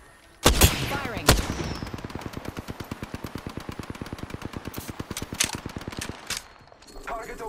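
Rapid automatic gunfire in the battle game Apex Legends, a long sustained burst of evenly spaced shots opened by two sharp louder cracks, staying loud and close before cutting off near the end.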